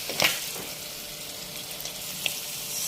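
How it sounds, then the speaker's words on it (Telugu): Curry leaves frying together with prawns in hot oil, a soft steady sizzle with a few brief crackling pops, close and alone. "కరివేపాకు కూడా రొయ్యలతో పాటు వేయించుకుంటే స్మెల్ బాగా వస్తుంది."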